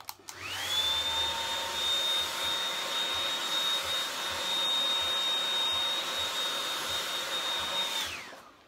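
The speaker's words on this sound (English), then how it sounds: "And I take my blow dryer." A hair dryer switches on and blows with a loud, steady whine and rush of air for several seconds, then powers down.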